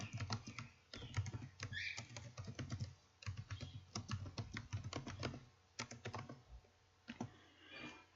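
Quick, irregular tapping on a computer keyboard under Windows while entering a git command, soft close keystrokes in bursts with brief pauses, no voice heard.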